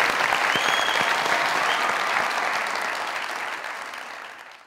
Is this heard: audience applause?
yes